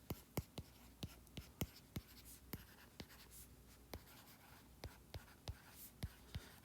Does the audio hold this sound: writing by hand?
yes